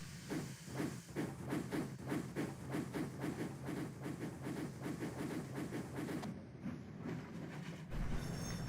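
Steam locomotive James puffs away on rails with a steady run of rhythmic chuffs and hissing steam that pick up pace, then quieten near the end, leaving a soft hiss.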